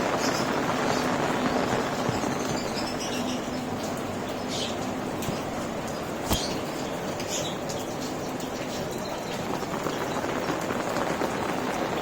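Rain falls steadily on a plant and bird setup during rainy weather, a dense, even hiss of drops with occasional sharper taps and a faint bird call, continuous throughout.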